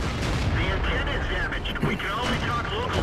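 Black Prince heavy tank cannon fire in World of Tanks amid a tank battle: dense, booming blasts and mechanical clatter layered under steady noisy engine and battlefield ambience, with voices audible in the mix.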